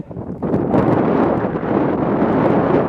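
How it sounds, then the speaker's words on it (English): Coastal wind at Stannergate during speedwing flying, a loud constant rushing roar buffeting the microphone with no pauses and no talk. "currently the wind is pretty well from Tentsmuir Point"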